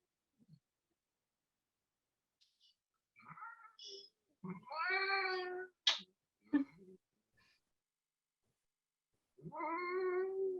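A cat meows several times in short, drawn-out calls with pauses between, fairly close and clear in an otherwise quiet room.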